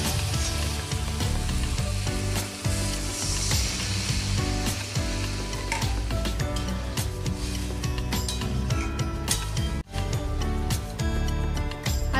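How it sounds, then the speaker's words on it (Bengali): Spiced vegetables sizzling loudly in a pan as water is added, a dense, continuous crackle and hiss with stirring scrapes and one brief dip near the end. "এবার আমি সবজিগুলো সেদ্ধ করার জন্য পরিমাণ মতো জল দিয়ে নেব।"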